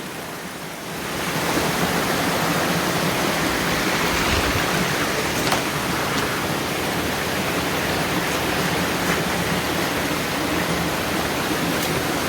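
The Champagne River waterfall in Saint Ann, Jamaica, roars as a loud, steady, broad rush of falling water, constant and close throughout with no voices.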